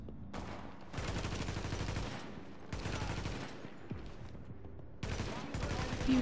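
Automatic weapons fire in the video game The Division, rattling out in several sustained bursts separated by short pauses, loud and close.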